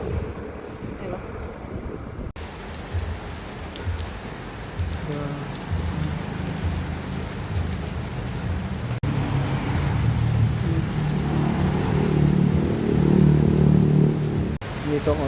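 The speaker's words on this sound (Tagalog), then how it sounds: "Ulan na naman." Rain falls during a solo bicycle ride on a Zambales and North Luzon loop: a steady, close hiss of drops mixed with wind rumble across the microphone, swelling louder toward the end.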